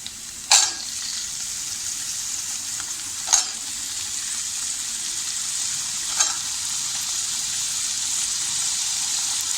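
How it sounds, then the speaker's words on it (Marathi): Potatoes tossed into onions frying in a pan for cabbage masala: a loud, steady sizzle throughout, broken by three distinct thuds and hiss surges as pieces drop in and are stirred. "आता त्यात आपण ही बटाटे टाकूया."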